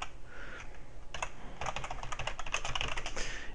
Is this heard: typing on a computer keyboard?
yes